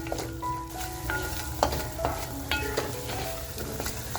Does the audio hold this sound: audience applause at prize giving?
no